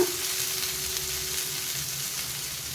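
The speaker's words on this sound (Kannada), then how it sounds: "ಆಲೂಗಡ್ಡೆನ ಇಡ್ತಾ ಹೋಗ್ತೀನಿ ನೋಡಿ ಈ ಥರ ಇದು ನಿಧಾನ ಉರಿಯಲ್ಲಿ ಬೇಯಬೇಕು" Masala-coated potato pieces fry slowly in oil in a pan over a low flame, giving a steady, close, gentle sizzle with no talking.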